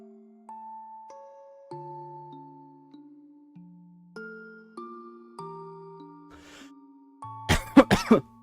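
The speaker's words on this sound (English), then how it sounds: "I just started to cough." A short melodic chime sequence of sustained tones plays, then a close, loud burst of a few coughs ends it.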